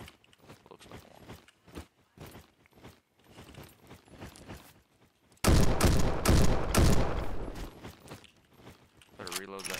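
An SKS Russian rifle in the Roblox game Bad Business fires a dense burst of loud sharp shots after a stretch of light tapping and clicking, with a voice talking underneath.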